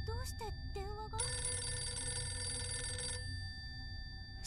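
A telephone in an abandoned-hotel horror video game rings with a two-second electric bell burst over a steady low drone, following a brief spoken line.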